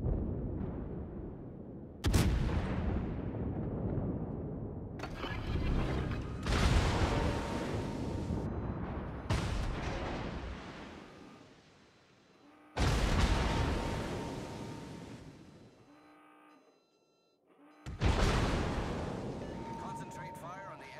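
Heavy naval guns in a video game fire in a series of deep, booming blasts, each followed by a long rumbling decay, spaced a few seconds apart and loud.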